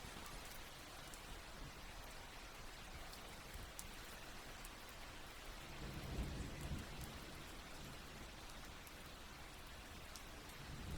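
Steady rain falls outdoors as a soft, continuous hiss of drops on surfaces, faint and distant, with a low rumble swelling briefly midway, and no voices.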